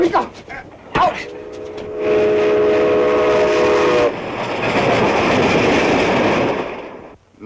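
Train in a 1937 movie serial, a steady, loud rumble of a moving train with a brief horn or whistle tone near the start, preceded by a couple of sharp bangs and a burst of voices.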